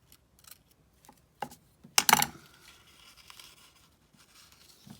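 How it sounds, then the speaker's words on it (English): Scissors trimming paper for a grungy field journal, a few faint clicks followed by one louder, close burst of cutting and rustling, then quiet handling sounds. "Cut it down just a tad more."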